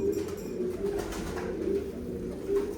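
Pigeons coo steadily in low, rolling murmurs, several birds overlapping close by, with a faint background hiss and no talking.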